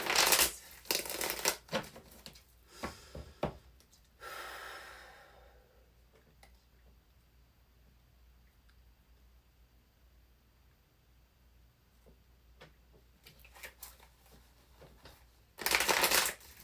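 Reading cards are shuffled near and loud in riffling bursts at the start, then the sound drops to quiet handling. A second loud shuffle comes near the end.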